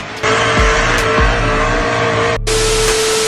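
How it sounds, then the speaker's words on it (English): A car drifting with loud, sustained tire squeal over a revving engine, close and continuous, with a brief break before the squeal resumes. "The driver's drifting skills are insane."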